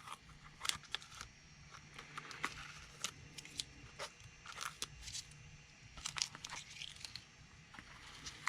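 Tape is peeled off the sole of a red Christian Louboutin Kate high heel shoe, producing soft, intermittent tearing and crinkling bursts at close range, quiet overall with irregular bursts and pauses.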